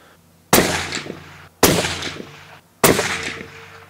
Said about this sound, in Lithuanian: ir bandom šauti 3 šūvius